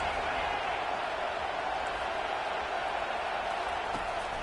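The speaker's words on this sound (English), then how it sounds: "Decibels rising as the crowd gets behind this defense on 3rd down." A college football stadium crowd roars for the defense on third down, a dense, steady wash of cheering and applause filling the space at constant loudness, with no clear rise within the short span.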